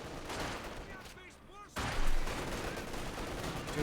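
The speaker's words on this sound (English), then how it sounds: "He's being shot at by the Panzergrenadier." Panzergrenadier squads trade rifle and machine-gun fire in the strategy game Company of Heroes 2, a dense, continuous crackle of gunfire with a brief lull before a louder burst, under a commentator's voice.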